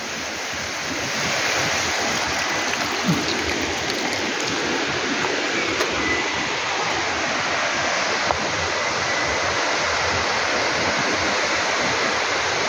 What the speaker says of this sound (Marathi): हे फार सुंदर धबधबे आहेत.